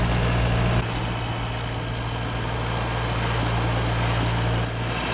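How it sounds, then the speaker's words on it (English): A sailing yacht's motor runs at sea on a passage from Stornoway toward the Faroe Islands, a steady loud low drone blended with wind and water rush that carries on throughout. "The motor is running, which is never ideal"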